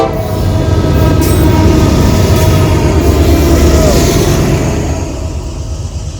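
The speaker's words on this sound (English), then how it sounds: "That's a long ass train too." A long freight train rumbles steadily past at close range, heavy wheel and wagon noise holding for several seconds before easing slightly.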